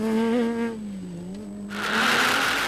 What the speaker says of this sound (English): Sean Rates and Rian Hreiling in the Regent Racing Nissan Navara are being kept honest by Matthews and Burke, who are in hot pursuit